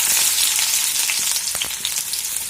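Chopped onion drops into hot oil for a Bengali vapa pitha filling, setting off a loud, bright sizzle that begins strongest and eases slightly, with a few crackling pops close by.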